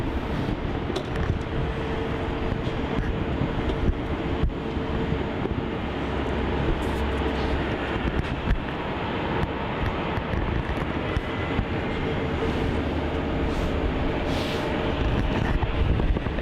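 A Qantas Boeing 737 arriving from Adelaide lands on runway 16 at Melbourne Airport, a broad, sustained engine roar with low rumble and wind buffeting that holds steady and swells slightly toward the end, heard from a distance outdoors.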